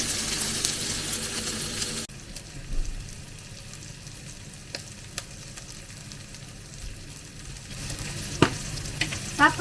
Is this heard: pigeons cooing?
no